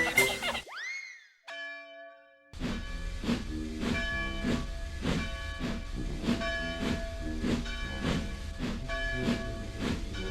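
Steam hissing from a steam locomotive, a loud close burst of hiss followed by a rising whistle-like tone, then a long steady run of rhythmic chuffing and mechanical clanking with ringing overtones.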